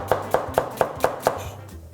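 A knife slices half an onion into thin strips on a board, six crisp, evenly spaced chops in a quick steady rhythm, close and clear.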